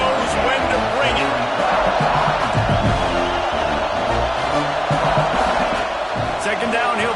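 A stadium crowd in a 2K football game roars with a steady, loud, continuous cheer while a commentator talks over it.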